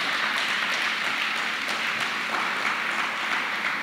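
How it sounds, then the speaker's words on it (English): Sustained applause from an audience at a memorial thanksgiving service, a steady dense wash of clapping that holds evenly for the whole stretch with no voices standing out. "And we should applaud her for that."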